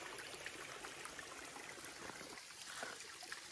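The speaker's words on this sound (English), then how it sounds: "Just sit here and reflect and listen to this little stream" A small mountain stream trickles and cascades across a hiking trail on Mt Mitchell, a soft, steady babble of running water heard close by and alone.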